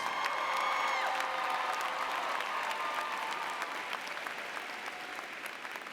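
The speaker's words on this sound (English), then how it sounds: "So let's all of us give all of them who are here today to celebrate your success a big round of applause" Large audience at a 2017 community college commencement ceremony applauding steadily, a dense wash of clapping with a few whoops and cheers fading slightly over the six seconds.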